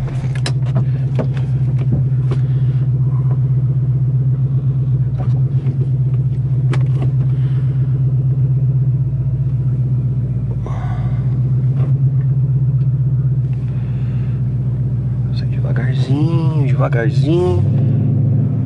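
A 2014 Ford Mustang GT 5.0 V8 engine hums steadily from inside the cabin while driving, a low constant drone under a person's talking, with brief clicks and a window motor near the end.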